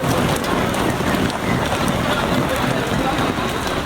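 Heavy storm rain pours down in Karachi amid strong winds, a loud steady roar of downpour and wind noise on the microphone that holds without a break from start to finish.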